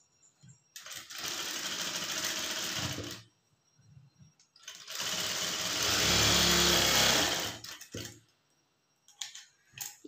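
A sewing machine stitches a blouse neckline with a seam about a quarter inch in. It runs in two steady bursts, the second longer and louder, each stopping with short clicks between.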